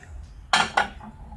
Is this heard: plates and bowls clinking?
yes